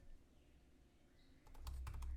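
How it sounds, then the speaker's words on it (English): A name is typed on a computer keyboard: a short run of quick, close keystroke clicks near the end, following a quieter stretch of low room noise. "I'm going to type a name."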